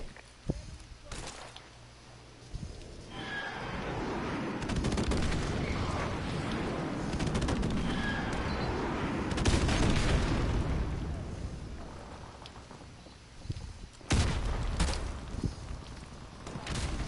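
Airstrike explosions and scattered gunfire in Modern Warfare Remastered, with a rolling wash of booms building in the middle, sharp shots breaking through near the end, and game voices over the top.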